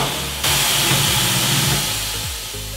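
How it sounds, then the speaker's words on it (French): Tyre changer machine for car and motorcycle wheels clamping a wheel after its left pedal is pressed: a loud pneumatic hiss bursts in, holds with a mechanical drone, then eases off, close and alone. "Installez la roue sur la machine, actionnez la pédale de gauche."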